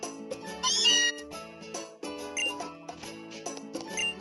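Meowth, a cat Pokémon in Pokémon Sun, gives a series of short synthesized meows in quick succession, bright and close, with small chiming game effects around them.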